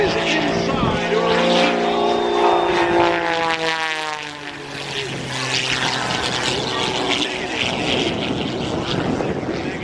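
Propeller aerobatic airplane performing an inside-outside loop with a double at the top at the 2010 Dayton airshow, its engine droning loudly and steadily with shifting pitch as it climbs and rolls, with faint talk underneath.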